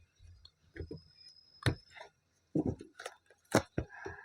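Tarot cards drawn from a deck, a handful of soft scattered taps and slides close by in near silence, irregularly spaced with brief gaps.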